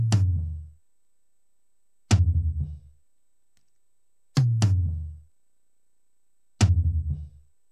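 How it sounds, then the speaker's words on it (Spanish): Isolated tom drums, with the section filtered and edited for a clean, punchy mix including a 16-inch tom, struck alone in four separate loud hits, each booming low and decaying over about a second, with gaps of silence between. "Vamos a escuchar cómo suena la sección sola de toms."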